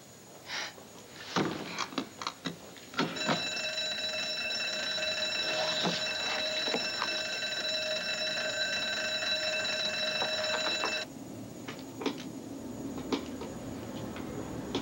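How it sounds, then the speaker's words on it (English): A fire alarm rings in a motel, a sustained shrill electronic tone that holds steady for about eight seconds before cutting off, preceded and followed by scattered knocks and clatter. "This could be a false alarm."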